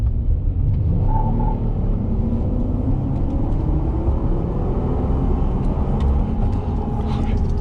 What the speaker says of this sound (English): As you can hear, my tires, dude, they spin every time.